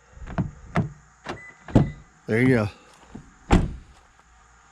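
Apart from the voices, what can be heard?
Toyota Tacoma doors unlocking via keyless entry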